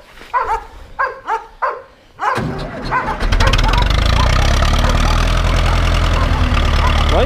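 Ursus tractor engine started after six months standing idle, a few soft knocks and a crank, then catching into a loud, steady diesel rumble that holds as throttle is added.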